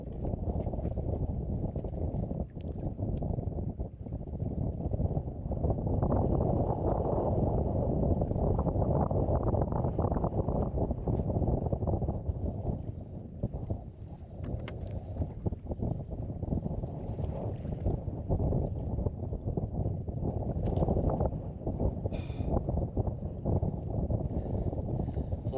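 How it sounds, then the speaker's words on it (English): Strong, brutal wind buffets a microphone on a bass fishing boat, a loud, constant low roar with gusty surges that rise and fall throughout, steady and unbroken for the whole stretch. "the wind is just brutal"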